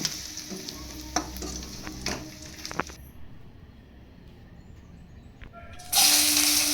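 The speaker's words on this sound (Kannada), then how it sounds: "ಎರಡು ಕಡೆ ಫ್ರೈ ಮಾಡ್ಕೊತಾ ಇದ್ದೀನಿ ಪನ್ನೀರನ್ನ" Paneer pieces shallow-frying in a pan, a low steady sizzle with scattered stirring and scraping knocks, fading quieter midway before a loud, bright burst of hissing near the end.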